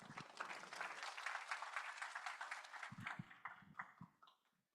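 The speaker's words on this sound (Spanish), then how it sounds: "Lo recibimos con fuertes aplausos." Audience applause welcoming a speaker at a business conference on sustainable innovation, a dense steady clapping of many hands that thins out and fades to silence, with a few footsteps and a faint voice near the end.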